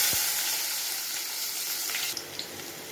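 Onions dropped into hot oil in a pan sizzle and fry with a steady, close hiss, a few soft stirring clinks near the end.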